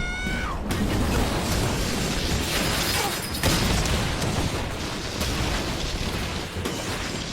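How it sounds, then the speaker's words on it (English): An airplane flips, crumbles and explodes in a video game, making a loud, sustained roaring blast with crackling debris. The rumble stays dense throughout, with a brief high whine at the start. "this airplane just flips and crumbles and explodes and bursts into a million pieces right behind her"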